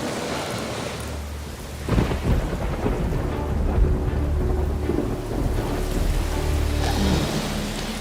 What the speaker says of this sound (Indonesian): kalau hujannya udah mulai reda